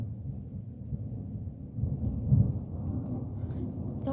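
Thunder rumbles through a storm, a low, distant, continuous roll that swells briefly in the middle, heard faintly from indoors with soft rain underneath.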